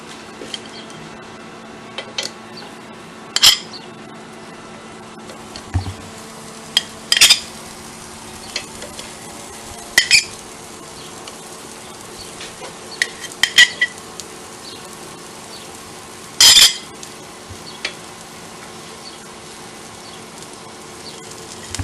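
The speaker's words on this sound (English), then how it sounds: "we're going to take our meat shish kebabs and we're going to rest them on the grill" Meat shish kebabs rest on a grill, giving a steady, even sizzle throughout with occasional brief clinks and scrapes of utensils on top.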